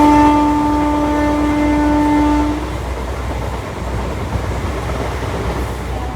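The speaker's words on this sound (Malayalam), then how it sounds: "ഞങ്ങൾ ട്രെയിനിൽ കയറി കേട്ടോ." A passenger train in Kerala runs along the line, heard from aboard. A loud, sustained horn blast sounds for the first few seconds, then a steady rumble of the running carriage continues to the end.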